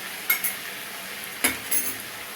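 Ginger paste being stirred into a bottle gourd leaf curry, with a steady soft sizzle underneath and two or three sharper scraping clinks of a spoon against the pan.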